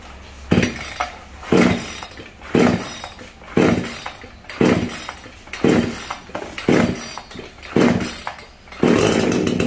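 A chainsaw started with the choke set and the pull cord yanked, giving a series of loud, rhythmic rasping bursts about once a second before settling into a steadier run at the end.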